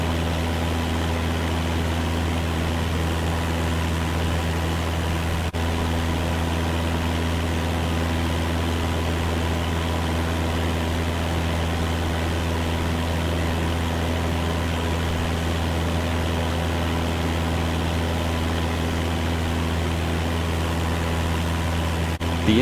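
A light aircraft's propeller engine idles steadily after landing, a constant low droning hum that stays loud and close throughout with no break.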